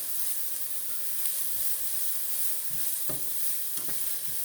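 Onion frying over medium-high heat in a non-stick pan with half a teaspoon each of butter and olive oil, a steady close sizzle with soft stirring scrapes and a few small spatters, no talking.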